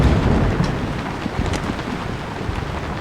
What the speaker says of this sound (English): So the conditions are worsening and the lightning storms are all around us.